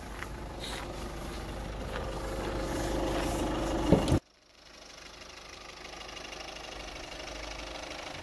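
An Opel Grandland X 1.5-litre turbo diesel engine idles with a steady low rumble and rattling knock, then cuts out abruptly halfway, leaving quiet background hum.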